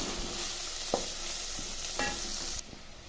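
Tomato masala with turmeric, curry masala powder and chili powder is stirred in a frying pan over a low flame, giving a steady close sizzle with a few soft spoon scrapes and taps, and no talking.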